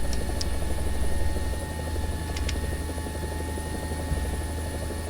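A helicopter in the War Thunder combat game flies through a steep pull-up, its dense, steady rotor and engine drone loud and continuous throughout, with a few faint high clicks over it and no voices.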